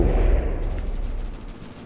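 Heavy battleship cannon fire in a space battle video game, a single loud booming blast that rolls off and decays over about two seconds, with no talking.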